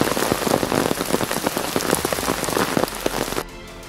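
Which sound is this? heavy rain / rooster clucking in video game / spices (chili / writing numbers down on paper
heavy rain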